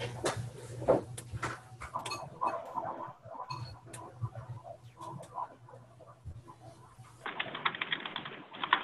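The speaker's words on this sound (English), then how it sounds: "Oh, I hear someone typing." Irregular clicks of someone typing on a keyboard during an online webinar, fairly close and steady, with a low hum and faint background noise.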